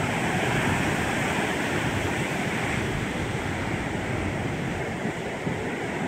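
Storm-driven ocean surf at Brookings roars without pause, a dense, close wash of breaking waves with wind buffeting the microphone throughout.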